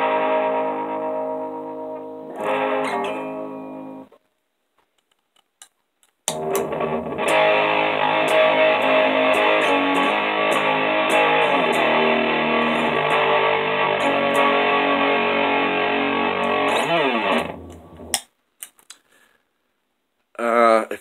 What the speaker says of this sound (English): when we add heavy distortion to our bar chords, they generally stop sounding good.